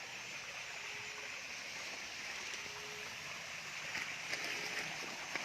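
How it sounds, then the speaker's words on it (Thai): A natural mountain waterfall rushes in a steady, broad hiss at moderate distance, continuous and unbroken with faint background sounds and no talk. "ถึงน้ำตกละ มันเป็นน้ำธรรมชาติ นี่นะครับ น้ำตกธรรมชาติ"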